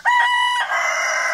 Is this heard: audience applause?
no